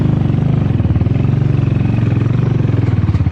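Yezdi Scrambler or Honda H'ness motorcycle pulling away at the start of a ride, a steady, loud, close engine thrum with a rapid rhythmic pulse throughout.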